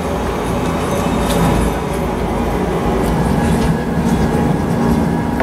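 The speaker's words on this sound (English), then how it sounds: "even the sound in the rover was recreated, or excuse me, recorded by driving the rovers at Johnson Space Center" Rovers driven at Johnson Space Center give a loud, continuous rumbling drive noise with a rattling, rolling texture and faint clicks, much like a train car, steady for the whole stretch.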